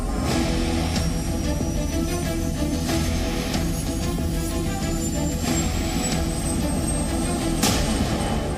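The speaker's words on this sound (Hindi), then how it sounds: "लेकिन पूरी तौर पर अटैक हेलीकॉप्टर, पूरी तौर पर हमलावर हेलीकॉप्टर ये है LCH।" A HAL Light Combat Helicopter (LCH), an Indian-made attack helicopter, flies past with a loud, steady turbine roar and a thin rising whine, plus faint rhythmic pulses throughout, with no voices.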